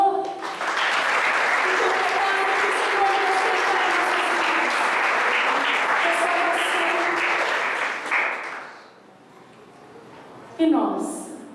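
A church congregation claps steadily for about eight seconds, a full even applause that then dies away into quiet, with a voice speaking briefly at the end.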